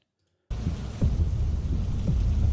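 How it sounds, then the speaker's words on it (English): Heavy rain for a horror game session starts abruptly after a short silence and pours on as a dense, loud roar with a few low rumbling swells. "It is raining heavily. The sound of rain is heavy in your ears"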